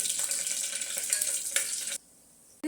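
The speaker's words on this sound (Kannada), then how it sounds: "ಏಲಕ್ಕಿ, ಚಕ್ಕೆ, ಲವಂಗ, ಸೋಂಪು ಮತ್ತು ಪಲಾವ್ ಎಲೆ ಇದಿಷ್ಟನ್ನು ಹಾಕಿ ಫ್ರೈ ಮಾಡಬೇಕು" Cardamom, cinnamon, cloves, fennel and bay leaf fry in hot oil for a biryani, crackling and sizzling densely up close for about two seconds before the sound cuts off abruptly.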